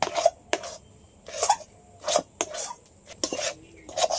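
A metal spatula scraping and stirring chhana filling in a pan, a series of short scrapes and clinks at an irregular rhythm, close and moderately loud, with no talking.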